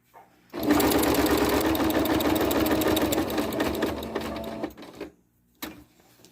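A sewing machine on straight stitch quilts a quilt-as-you-go piece, humming in one loud, close, continuous run of rapid needle chatter for about four seconds before stopping, followed by a short knock; nobody speaks.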